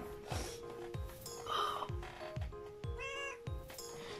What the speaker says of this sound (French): Oh, y a mon chat.